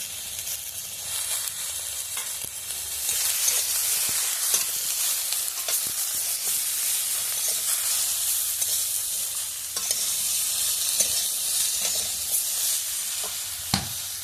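Vegetables for sukto fry in a pan with salt and turmeric, giving a continuous close sizzle broken by frequent scraping stirs and occasional sharp knocks of the spoon.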